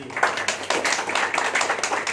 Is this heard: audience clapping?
yes